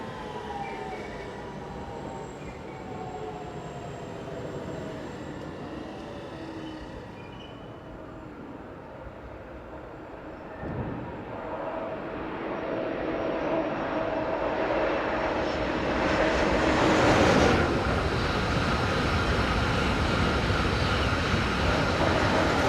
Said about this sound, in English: Four 4313 heads north with the 1407 from Gemunden to Joza.